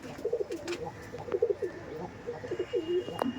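A male Kamagar pigeon coos in repeated low rolling phrases, close and clear, with a few brief rustles between the calls.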